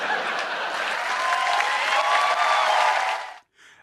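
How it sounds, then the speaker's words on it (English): Sustained audience applause after a comedy bit, a dense even wash of many hands clapping that holds steady for about three seconds, then cuts off abruptly. "It's the applause, right?"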